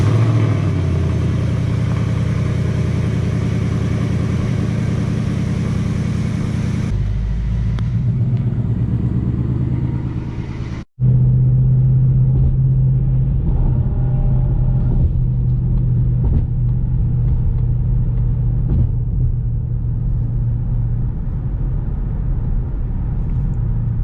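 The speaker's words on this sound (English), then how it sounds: "Now, quick cold start." Ford Mustang GT with a 5.0 V8 on a cold start: loud, close engine roar and rumble, a brief cut, then a steady, deep high-idle drone with some hum, no talk.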